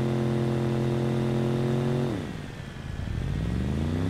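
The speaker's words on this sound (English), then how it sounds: "With the dirt bike, I think it was started on 50 last night when I was using it." A dirt bike engine in the survival game SCUM drones with a steady buzzing tone that drops in pitch as the throttle eases off, then climbs again as it revs back up, loud and close with no talking.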